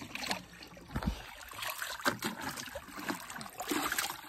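Water sloshing and trickling as a container is filled from a dirty pond outdoors, with intermittent splashes and dribbles at close range and no talk.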